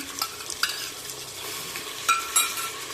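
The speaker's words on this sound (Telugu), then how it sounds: "ఆనియన్స్ కొంచెం ఫ్రై అయిన తర్వాత 1 స్పూన్ అల్లం వెల్లుల్లి పేస్ట్ వేసుకోవాలి." Ginger garlic paste frying with onions and curry leaves in a pan for a red chickpea curry, a steady close sizzle with a few sharp stirring scrapes and clinks, no voices.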